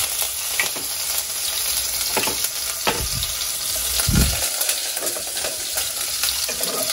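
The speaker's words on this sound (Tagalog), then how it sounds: "Sisimulan na natin ang paggisa nitong mga sangkap natin." Unpeeled garlic cloves sizzle steadily in hot oil in a pan, with a continuous bright crackle broken by a few soft scraping stirs and one low thump partway through; no one speaks.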